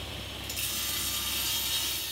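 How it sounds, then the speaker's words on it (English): A table saw trims a hardwood cutting board to final size, giving a steady, loud whirring cut that rises and holds with no speech over it. "I trimmed the board to final size and did that with a few passes on the table saw"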